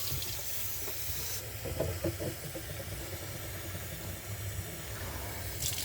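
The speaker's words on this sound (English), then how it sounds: "put some water in this glass dish" Tap water runs steadily into a glass dish with a little soap for washing up, a continuous close splashing fill with light clinks, over low background hum.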